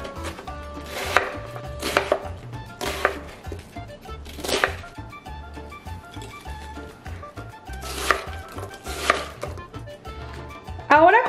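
Knife chopping onion on a cutting board while making habanero chile salsa: rapid, regular close-up knife strikes in bursts, with brief pauses between runs and a clatter at the end.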